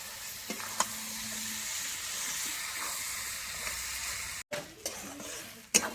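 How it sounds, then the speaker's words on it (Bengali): Boiled cabbage and potato are stirred and sautéed with spices in a pan, giving a soft, steady frying hiss. A few sharp scrapes and knocks of the spoon cut in, and a brief gap falls near the end. "আমি এইভাবে মশলার সঙ্গে কষাতে থাকবো 5 মিনিট মতো"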